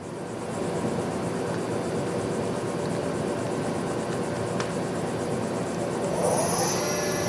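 A Doosan Puma 2600SY multi-axis CNC turning center, a 2011 machine with a 10-inch chuck, spins its main spindle at 500 RPM, giving a steady loud whirring hum, with a brief rising whine near the end.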